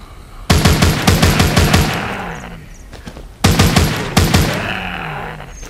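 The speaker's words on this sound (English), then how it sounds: "I think I can take them with my gun." Rapid gunfire from a gun in The Walking Zombies 2 video game, two loud bursts of repeated shots, each fading into a decaying tail, with no talk.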